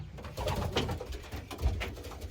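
Racing pigeons coo softly in a loft with box perches, low rounded calls over a steady background hum, no voices.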